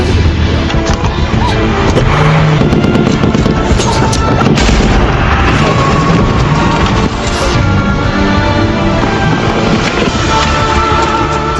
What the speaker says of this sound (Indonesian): mobil April dihadang oleh mobil Kartel de la Cruz yang langsung menembakinya